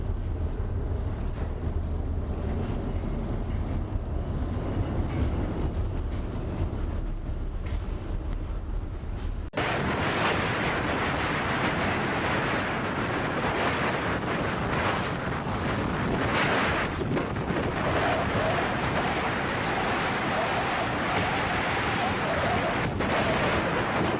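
Storm waves and howling wind batter a large Greek chemical tanker in the North Sea, a loud continuous roar with heavy microphone buffeting that surges louder partway through as the sea crashes against the ship.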